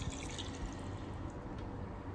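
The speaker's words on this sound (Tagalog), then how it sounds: "Tapos lagyan natin ng tubig." Water runs steadily into a cooking pot on the stove, a continuous close splashing fill with no talk over it.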